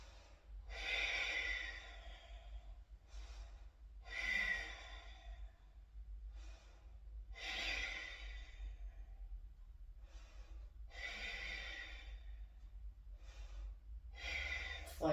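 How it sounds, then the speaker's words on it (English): Steady, deep breathing while holding yoga boat pose (Navasana), legs extended and arms out, with long breathy exhalations recurring roughly every three to four seconds against a low background hum. "keep breathing."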